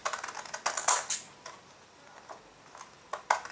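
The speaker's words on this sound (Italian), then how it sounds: "con le forbici di carta" Paper scissors trim a greeting card, giving a quick series of crisp snips and clicks close to the mic, some in bursts and then a pause, with no talk.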